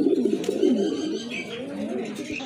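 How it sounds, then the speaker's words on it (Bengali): Pink-beaked pigeons coo close by, soft repeated throaty rolling calls overlapping in a steady murmur with faint chirps above. "গোলাপি ঠোঁটের কবুতর"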